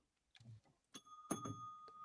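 A bell rings out with a bright, sustained tone after a couple of low muffled thumps, the chime hanging and decaying with clear overtones over a second or so.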